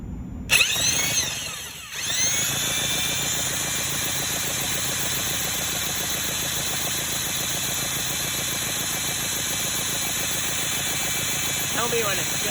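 A Mercury outboard motor runs steadily throughout while its timing is being adjusted, producing a close, continuous, pulsing mechanical drone after a brief stutter at the start.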